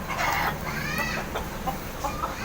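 Several chickens cluck and squawk close by in an excited, busy flurry as they are chased and caught, with overlapping calls throughout.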